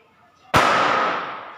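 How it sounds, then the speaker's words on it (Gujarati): A single firecracker goes off outdoors near a home with one sharp, loud bang, followed by a long fading rumble after a quiet start. "ઓય મારા વિડિયોમાં ધડાકા આવે છે"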